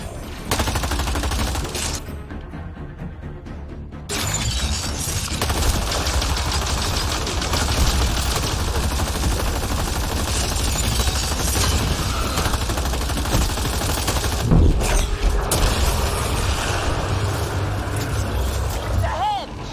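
Rapid bursts of gunfire from a firefight in Mass Effect: Andromeda, dense and continuous with a brief lull early on, loud and close, with a voice heard over the shooting.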